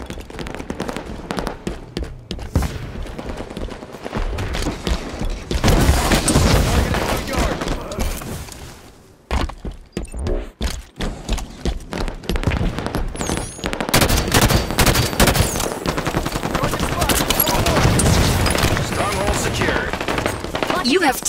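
Dense, sustained automatic gunfire and shooting during a Halo 5 Big Team Battle Strongholds match on Guillotine, with loud continuous volleys, a brief lull near the middle, and an announcer voice occasionally heard over the fighting.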